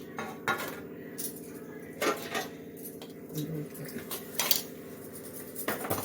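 Quiet metallic clinks of a tempering ladle against pans sound now and then, a few scattered taps under a person talking, while making carrot phirni payasam with ghee.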